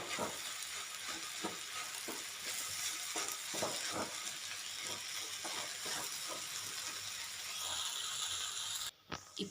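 Shredded cabbage and grated coconut sautéing in a pan for cabbage poriyal, a steady sizzle with soft scraping stirs throughout, no voices.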